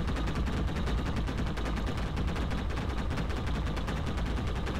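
Rapid cannon and gunfire in the Enlisted World War II game, with a 37mm aircraft cannon firing among dense overlapping shots and explosions, loud and continuous throughout with no talking.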